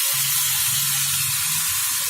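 Tomatoes hitting hot oil in a pan as a tomato chutney cooks, with coconut already roasted, give a steady, loud broadband sizzle that holds evenly for about two seconds without any voices.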